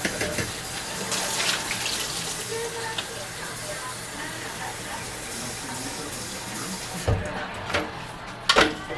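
Water pours from a tap into the container of a paint sprayer, a steady gushing splash that ends with a few clunks as the flow stops, with a voice faintly talking over it.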